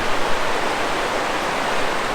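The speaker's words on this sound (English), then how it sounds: "So we have the river running right behind" A river rushing behind a hotel balcony in Yosemite National Park: a constant, full roar of flowing water, steady and fairly loud, with no other sounds.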